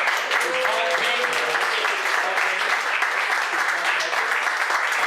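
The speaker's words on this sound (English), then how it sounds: "Let's have a round of applause for Paul." Applause for a senior honoured as student of the month, a continuous crowd clapping at steady loudness, with a faint voice murmuring underneath.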